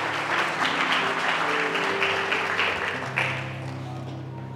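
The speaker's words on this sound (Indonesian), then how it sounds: "Boleh tepuk tangan buat Tuhan." A church congregation applauds during a Sinar Glory Church service, with a steady wash of many hands clapping under a sustained organ or keyboard tone. The clapping thins toward the end while the held chord continues.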